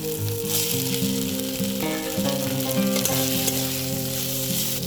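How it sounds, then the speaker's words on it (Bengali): Taro stolons (kochur loti) sautéing with spices in a pan, a loud continuous sizzle with scraping stir strokes and a low steady hum underneath, no talking. "এই যে আমি লতিটা ভালো করে কষিয়ে নিয়েছি"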